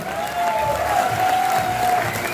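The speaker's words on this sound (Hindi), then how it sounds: "मैं चाहता हूं एक बार जोरदार तालियां हो उनके लिए।" An audience at a business plan presentation applauds a brand ambassador with loud, steady crowd clapping. A sustained tone runs across the middle of the applause.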